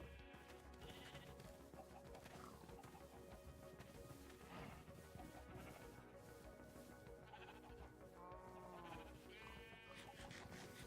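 Sheep in a video game bleat repeatedly, several wavering calls rising over a steady busy game soundscape, faint overall and fairly close.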